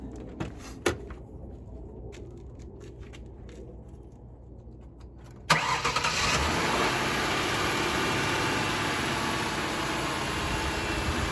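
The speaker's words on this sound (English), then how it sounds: "the next portion of it is to crank the vehicle" A used car's engine cranks and catches after a quiet stretch of faint clicks, then settles into a steady, close idle that runs continuously to the end.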